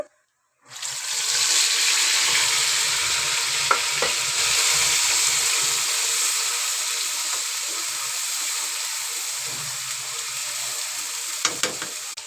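A ground spice paste fries in hot oil after a five-spice tempering, giving a loud, continuous close-up sizzle and hiss that lasts throughout, with a few faint clinks of a spoon stirring.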